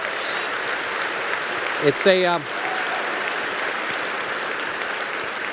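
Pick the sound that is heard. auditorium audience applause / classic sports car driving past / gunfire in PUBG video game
auditorium audience applause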